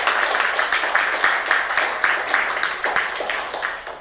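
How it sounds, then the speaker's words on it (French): A church congregation gives sustained applause at a Sunday service, dense overlapping claps with steady rhythmic accents filling the room throughout. "On peut les applaudir et les encourager."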